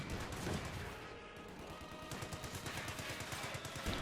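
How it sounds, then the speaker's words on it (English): Mortars firing in Company of Heroes 2: a steady, rapid series of thudding shots and battlefield gunfire, dense and busy, with no voices. "We got double mortars there firing away."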